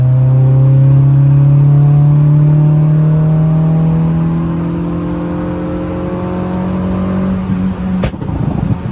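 A Suzuki Cultus with a swapped-in Honda K24 engine revs loudly nearby, its tone climbing steadily for several seconds before dropping off with a sharp burst near the end.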